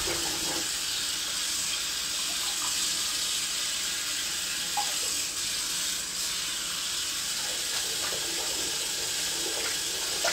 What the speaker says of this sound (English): Just kind of empty and refill the sink a few times